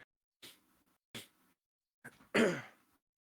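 A few short, soft throat sounds in quick succession, spaced pauses between them, ending in a slightly louder breathy cough, close and quiet with no talk.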